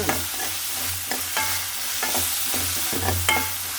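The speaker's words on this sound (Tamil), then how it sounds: "அதை மட்டும் போட்டு நம்ம வதக்கிட்டு ரொம்ப வதங்கணும்னு அவசியம் இல்லை" Onions sautéing in hot oil in a pan for an egg stir-fry, a close, steady sizzle broken by repeated scraping strokes of a spatula stirring at a regular pace, with no voices.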